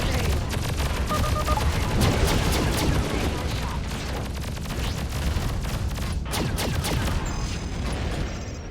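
Rapid bursts of fast-firing guns in the space combat game Freelancer, a dense, continuous rattle of shots layered over engine and effect noise, with a few brief spoken words.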